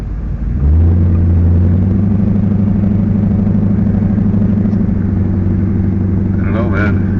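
Loud, steady engine drone from motorbikes riding close by on a road, heard from a car with a C4 dash cam; the rumble starts abruptly and holds continuously, with speech over it.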